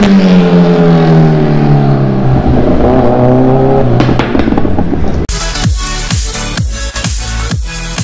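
Kawasaki Z900 superbike engine at a Delhi bike market, loud and close, rising through a long sustained rev before breaking into a burst of sharp, crackling throttle blips with no talk over it.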